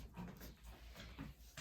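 A puppy whimpers softly on a mat, a few faint high whines over a low steady background hum, close by but quiet.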